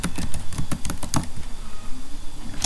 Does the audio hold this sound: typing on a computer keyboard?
yes